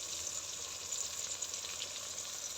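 Spices such as turmeric and chili powder fry in oil for a spicy fish curry, a steady soft sizzle, faint and continuous with no talking.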